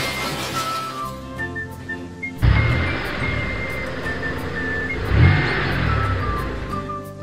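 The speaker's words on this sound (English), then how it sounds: "Four little cars quickly drive along the road." Four little cartoon cars drive along a wet, puddled road, engines humming steadily with a sudden louder whoosh and another surge later, up close and with no talk.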